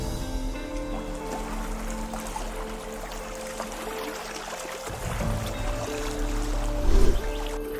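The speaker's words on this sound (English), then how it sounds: "After the boat was in the water, we putted across 2 Mile Lake to our first destination" A small motorboat puttering across 2 Mile Lake in the Myall Lakes, a steady low engine drone with water trickling and splashing along the hull, close by, swelling louder near the end.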